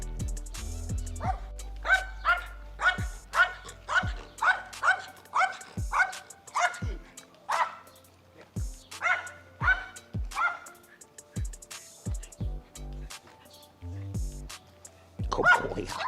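Rottweilers outdoors bark in a quick run of loud, sharp barks, with occasional yips and whimpers between bursts and short pauses near the end.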